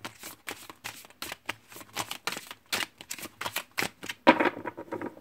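Oracle cards being shuffled by hand, a steady run of crisp riffling flicks close by, ending in a louder burst as the deck is squared.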